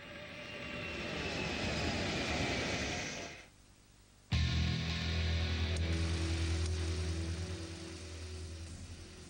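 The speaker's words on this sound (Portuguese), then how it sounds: "o avião espião U-2." A U-2 spy plane, the Cold War reconnaissance jet developed by Kelly Johnson, roars steadily overhead with a loud broadband engine drone, cut off by a brief drop before returning with a strong low hum.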